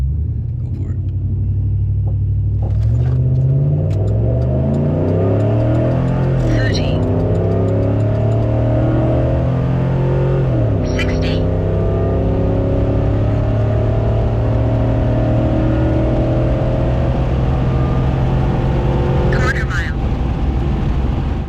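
A Chevrolet Silverado pickup with a 5.3-liter V8 makes a quarter-mile acceleration run. The engine roars loudly as it revs up through rising gears, with sharp shift breaks and a sustained cabin drone, and voices talk over it.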